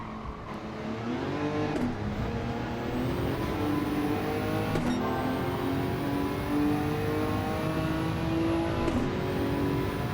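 A Nissan GT-R GT500 race car in Gran Turismo 7 on a wet Le Mans track, its engine droning loud and steady with rising revs and a few brief shifts, heard alone without talk.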